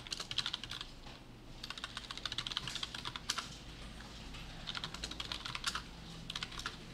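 Bursts of rapid typing on a computer keyboard while entering commands in a Windows command prompt, crisp key clicks in quick runs with short pauses between them, close and fairly quiet, no speech.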